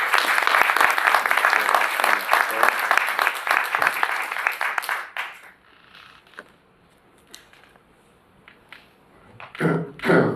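An audience at a French association gathering gives a burst of applause, dense clapping lasting about five seconds before fading to scattered claps, then a brief final flurry near the end.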